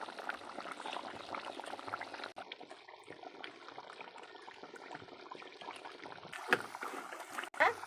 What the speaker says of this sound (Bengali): দেখো কাঠের জালে কি পরিমাণ ফুটছে ঝোলটা।